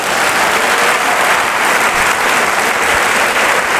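A church congregation applauds and cheers loudly in praise of Jesus of Nazareth, a dense, steady wash of clapping and voices lasting throughout.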